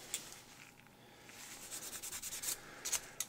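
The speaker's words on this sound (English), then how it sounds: "get all the sanding done here" Quiet, steady scratchy rubbing with a hiss-like texture as a metal box is sanded, repeated short strokes close by, no voices.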